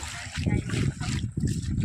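Water sloshes and splashes rhythmically up close, like steps wading through shallow floodwater on a waterlogged road, with some murmuring voices underneath.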